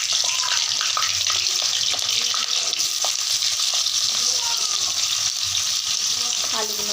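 Potatoes fry in hot oil with a dried red chili, producing a continuous bright, hissing sizzle with occasional crackles and small clatters from the pan.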